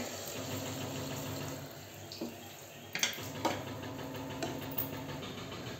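Water poured into a pan of cooking tomatoes, a steady hiss and gentle splashing with a few small sharp clinks, heard fairly close over continuous low background noise.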